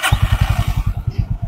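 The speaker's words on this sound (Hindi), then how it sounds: "और अगर हम इसको दबाते हैं तो इंजन स्टार्ट हो जाएगा" A motorcycle engine started with the push button catches and settles into fast, even low thumps of firing pulses, loud and close, with no talking.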